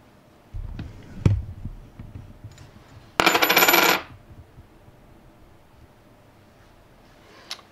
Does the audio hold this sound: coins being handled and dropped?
yes